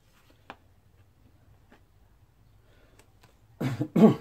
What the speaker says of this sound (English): I'm coughing again.